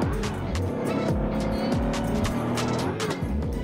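Racing cars roar through a Drive Zone Online race, engine drone steady and loud with tire squeal and a car sweeping past in a continuous blur of motor noise.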